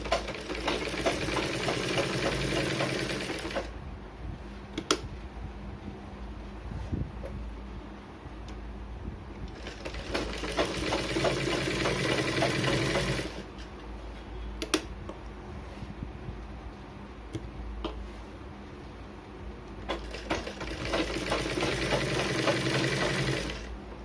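A sewing machine stitches the lining of a blouse in steady continuous bursts of several seconds, separated by quieter pauses with occasional sharp ticks, close and loud with no talk.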